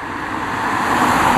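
Cars pass on a mountain road near the Tofana di Rozes cliffs, a loud steady roadway rumble with a vehicle swelling closer toward the end.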